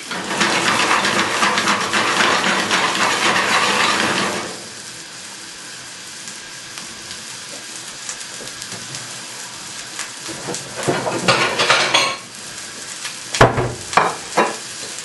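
Loud, steady sizzle of onions frying in a pan for about four seconds, then quiet with a few clatters and bursts of sizzling near the end.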